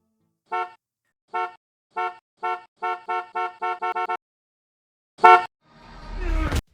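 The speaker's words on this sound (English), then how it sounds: "It now had a dedicated honk button." A synthetic vehicle horn honks in Fortnite, from the ATK's dedicated honk button, in a series of short beeps, speeding up into rapid toots, followed by a longer blast and a rising engine whoosh.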